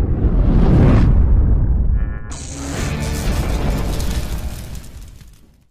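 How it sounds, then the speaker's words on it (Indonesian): A bomb blast tears through a nightclub in Jakarta in 2015, a loud booming explosion at the start that rolls into a long rumbling roar and crackling debris before fading out. "Film diawali ketika Jakarta 2015 terjadi ledakan bom di sebuah klub malam."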